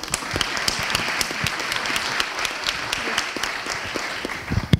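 An audience at an HR conference applauds steadily, a dense patter of many hands clapping throughout, fairly near and even in loudness.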